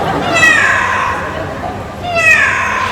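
A child imitates a cat with two drawn-out, rising-and-falling meows over a steady background hubbub, voiced like a fierce cat.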